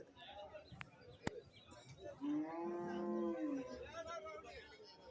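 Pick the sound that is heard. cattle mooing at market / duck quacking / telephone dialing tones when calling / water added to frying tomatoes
cattle mooing at market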